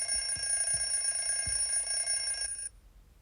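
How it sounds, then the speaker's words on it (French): An alarm clock rings with a steady, bright, high-pitched electronic tone and a few soft knocks underneath, then cuts off abruptly near the end, leaving quiet. "le réveil se met à sonner"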